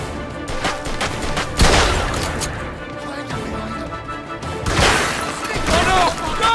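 Gunfire from a firefight in the video game Mafia 2, with bursts of shots and crashing impacts mixed with game noise, loudest around the middle and again near the end, while a voice is heard.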